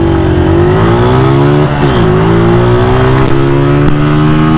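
A Honda CB 150F motorcycle accelerates hard in a pickup test, its loud close engine note climbing through the gears with clear shift dips as it revs.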